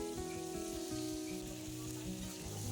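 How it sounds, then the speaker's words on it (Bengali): Pointed gourd pieces sizzle and fry steadily in hot oil with a little turmeric, a dense continuous crackle with no talk over it. "এরপর আগে থেকে কেটে রাখা পটলগুলোকে তেলে ছেড়ে দিচ্ছি।"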